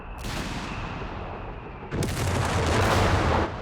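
Panzer IV tanks firing high-explosive rounds in the real-time strategy game Company of Heroes 3, heavy booming gunfire with a sustained rumbling volley building loudly from the two-second mark, set against continuous battle noise.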